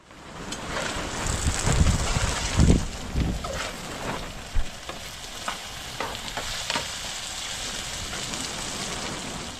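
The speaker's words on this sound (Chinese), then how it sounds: "锅里的餐食已经在烹煮" Food cooks in a pot with a steady bubbling sizzle and a few louder stirring scrapes, close and continuous, with no talk.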